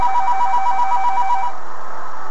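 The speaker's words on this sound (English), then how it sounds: "I just let the phone ring." A telephone rings in loud repeated electronic trills for about a second and a half, then stops, with no talk over it.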